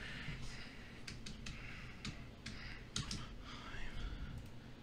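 Someone typing a DMR ID on a computer keyboard, a quiet scatter of separate key clicks in short irregular bursts over a faint background hiss.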